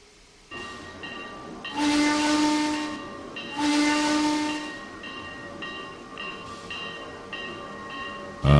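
Steam locomotive in the Trainz 2022 railway simulator hisses steadily while its whistle sounds in two long, loud blasts, followed by quieter continuing steam and rail noise, with no talking.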